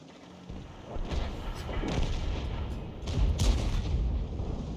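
A tank cannon round striking a bunker in World of Tanks with a GW Panther: rumbling booms and thuds, moderately loud, rolling on through the short clip.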